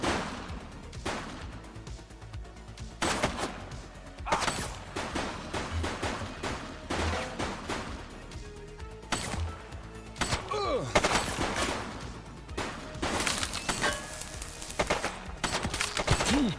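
Enemy gunfire in the police game The Precinct: repeated loud bursts of shots and single cracks spread across the scene over a steady background of traffic and ambient noise.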